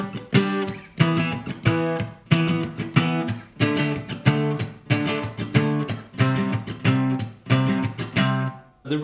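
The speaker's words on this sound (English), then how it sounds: "The rhythm for the main guitar part is a muted strum down." Guitar playing the main rhythm of a song with muted down-strums, heard alone as a steady pulse of choppy, clipped chord hits in regular bursts.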